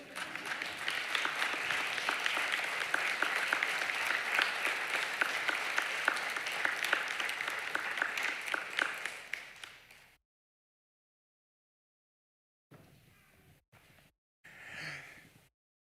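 An audience at a medical school white coat ceremony applauds in a dense, steady clatter of many hands for about ten seconds. It then cuts to near silence with a few faint, scattered noises.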